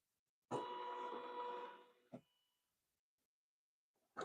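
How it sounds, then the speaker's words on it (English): An embroidery machine stitches an appliqué seam in the hoop, a steady close mechanical whir lasting about a second and a half, ending with a single click before silence. "It's going to sew a seam."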